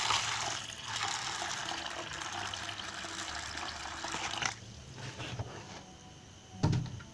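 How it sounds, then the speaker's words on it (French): Water poured from a container onto soybeans in a bowl to soak them for homemade soy milk, a steady close rushing pour for about four seconds, then fainter trickles and a brief splash near the end. "il faut ajouter de l'eau"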